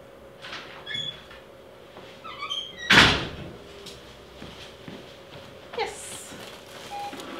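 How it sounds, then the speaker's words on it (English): A door being opened indoors, with a sharp loud clunk of the latch and a scrape, followed later by a softer knock, amid faint room noise. "Open the door for 10 seconds and return."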